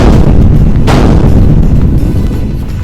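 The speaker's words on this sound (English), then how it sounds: "My pendant bombs aren't stopping her." Pendant bombs exploding in a spy action scene, a loud sustained rumbling blast with a sharp burst partway through, close and booming, slowly fading toward the end, with no talk.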